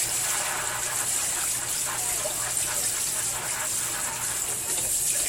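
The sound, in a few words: water running from tap rinsing cheese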